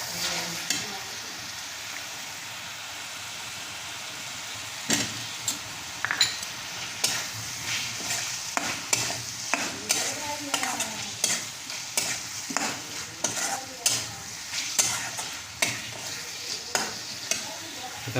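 Potatoes frying in masala for a chicken and potato curry, stirred with a spoon that scrapes and taps against the pan in a steady run of strokes over a soft, quiet sizzle.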